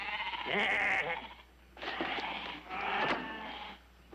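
Sheep bleating three times in a row, close and fairly loud, each wavering call lasting about a second with short pauses between.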